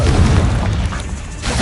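Spell explosions from Bombarda and Confringo in Hogwarts Legacy, a loud, deep, rumbling boom that swells, dips briefly and then surges again, filling the whole moment.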